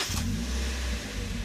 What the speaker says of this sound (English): Then we start the car